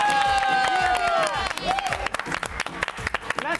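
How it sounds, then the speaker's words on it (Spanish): A comedy-show studio audience breaks into applause and cheering with whoops, loud at first and then thinning into scattered claps, while a host's voice rings out over it. "¡Aplausos para ti, la María Sesto!"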